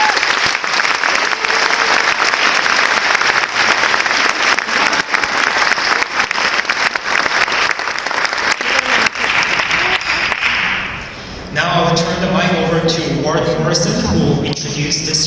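Banquet audience giving sustained applause that is loud and dense at first, then tapers off before a voice begins speaking near the end.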